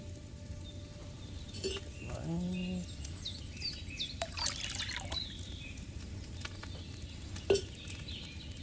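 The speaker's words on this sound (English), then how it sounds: "So, what did you pour in there? Wine, of course." Wine poured into a cauldron in the video game Kingdom Come: Deliverance, a soft brief trickle and splash over a quiet ambient background with faint bird-like chirps.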